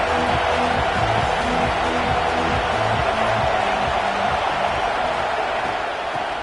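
Football stadium crowd at a Texas rivalry game roaring steadily and loudly, a dense wall of cheering and noise that holds throughout without breaks.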